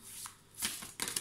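Tarot cards are shuffled and drawn in a quiet room, with a soft flick and then two short, crisp riffling bursts close by.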